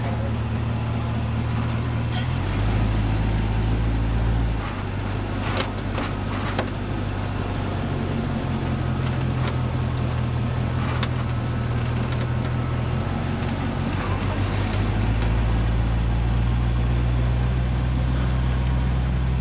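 A hot rod's car engine idles steadily before a drive, a continuous close low rumble whose pitch shifts slightly a few times.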